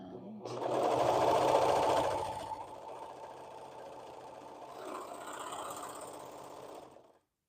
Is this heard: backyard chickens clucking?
no